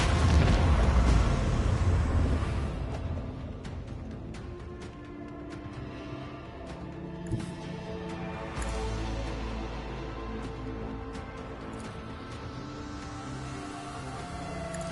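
Torpedo explosion in a video game: a deep, loud rumbling boom at the start that decays into a long low roar, with scattered crackles and a second low swell later.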